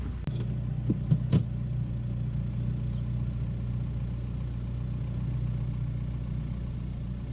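A 2005 Volkswagen Beetle TDI diesel engine running in gear with worn motor mounts: a steady low rumbling drone throughout, with a few clicks and knocks early on, close and without voices.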